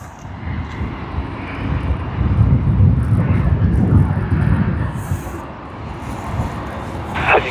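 A passenger airliner touching down and rolling out on the runway at Sydney Airport on a Friday evening, a steady broad engine and roar building through the middle and easing toward the end, moderately near with wind buffeting.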